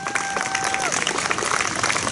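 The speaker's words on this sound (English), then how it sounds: "Please give them a big applause" Audience at an 8th grade graduation ceremony applauds the graduating students with dense, steady clapping throughout, plus a brief whistle-like tone early on.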